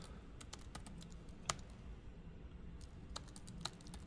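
Someone typing code on a computer keyboard, a quiet, close run of irregular key clicks with a couple of sharper taps standing out.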